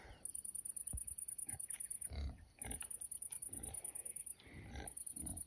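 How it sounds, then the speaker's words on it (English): Pigs out grazing on an off-grid homestead after nine at night, giving low grunts and rustling snuffles at close range, with a steady high insect chorus running over the scene. "and the pigs are all still out grazing."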